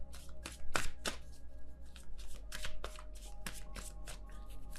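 Tarot cards are shuffled and drawn by hand, with a flurry of quick papery riffles and slaps followed by lighter card flicks, close and fairly quiet over a low hum, with no talk.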